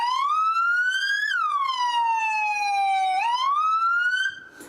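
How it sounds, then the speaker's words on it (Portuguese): Emergency vehicle siren in a wail tone, one loud, close, steady electronic tone sweeping slowly up, then down, then back up, cutting off near the end, with no talk. "As sirenes são mais do que um alerta sonoro."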